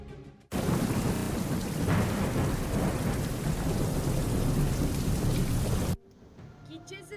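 Torrential rain pours down in Guatemala, a dense, steady roar of heavy rainfall with a rumble of thunder beneath, loud and continuous for several seconds before cutting off abruptly.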